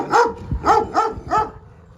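Two toothless leader Kangal dogs scuffling, giving four short loud barking growls in quick rhythm, close by, with no talk.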